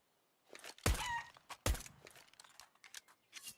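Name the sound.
chicken clucking in Counter-Strike video game, Inferno map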